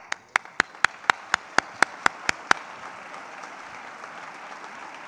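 At a town fair opening ceremony, someone close by claps about ten times in an even rhythm for the mayor and councillor, then a soft murmur of the room remains.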